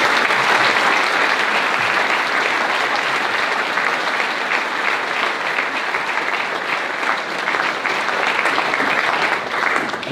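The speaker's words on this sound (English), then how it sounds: "Let's applaud him as he joins us today in the live stream." Sustained audience applause at a 2023 high school Founders Day ceremony, honouring an award recipient; dense, steady clapping fills the whole stretch at an even, fairly loud level with no speech over it.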